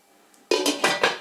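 A lid set down on a Kinghoff 24 cm, 3.1 L non-stick cooking pot: after a quiet moment, four quick metallic clanks and rattles, close and fairly loud.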